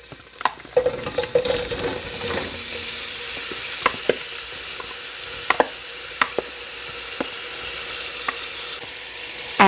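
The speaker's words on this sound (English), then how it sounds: "Everything's starting to sizzle," Leeks sizzle steadily in butter and oil in a hot pan, with scattered pops and crackles and the occasional scrape of a utensil stirring.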